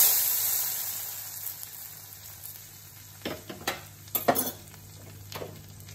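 Hot ghee carrying fried dry fruits is poured into carrot kheer, setting off a brief sizzling, stirring burst in the middle of the clip after quiet kitchen hiss.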